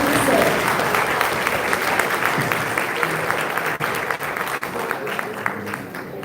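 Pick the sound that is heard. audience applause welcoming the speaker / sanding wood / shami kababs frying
audience applause welcoming the speaker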